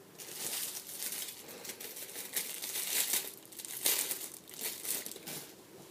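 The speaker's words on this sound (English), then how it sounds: "So let's take it out of packaging." Plastic packaging crinkles and rustles up close in bursts as a yellow seal-bun squishy toy is pulled free, with no talking.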